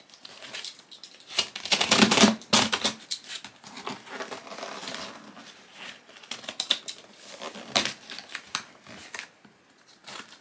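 A cardboard parcel sealed with paper tape is ripped open up close. Bursts of tearing, scraping paper and crinkling packaging come in uneven spurts, loudest early on, with quieter rustling in between.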